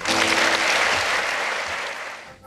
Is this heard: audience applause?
yes